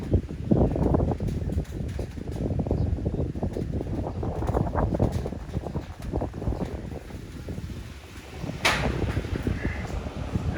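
Steady cool wind buffeting the microphone at a mountain-area restaurant in Chiang Dao, Thailand, a broad continuous rush lasting throughout with gusty swells and a few faint knocks.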